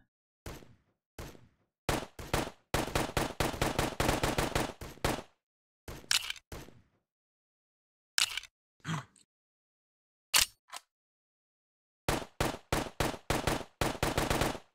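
Video game gunfire from Call of Duty: bursts of rapid automatic fire and single loud shots, close and punchy, separated by short silences with a long burst near the start and another toward the end.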